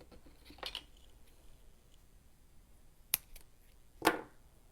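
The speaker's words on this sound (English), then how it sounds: "gotta cut the labels off" Scissors snip labels off clearance winter florals, giving three short, crisp cuts spread across the clip with quiet pauses between and no voices.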